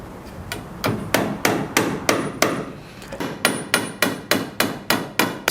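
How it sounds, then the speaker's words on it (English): A galvanized nail hammered through the top of a wooden balustrade handrail into a false tenon, a loud, close series of sharp evenly paced strikes, a brief pause midway, then a quicker steady run of blows. "we drill through the top into the false tenon so we can secure it with a galvanized nail"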